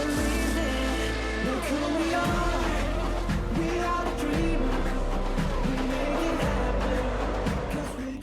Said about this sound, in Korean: 레이싱카의 짜릿한 속도 경쟁이 펼쳐지는 곳인데요